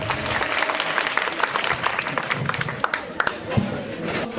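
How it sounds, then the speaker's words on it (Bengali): Audience applause at a program in Bogura, a dense patter of many hands clapping steadily throughout with crowd noise, fairly loud and close. "স্যারকে স্যারের জন্য একটা করতালি হবে।"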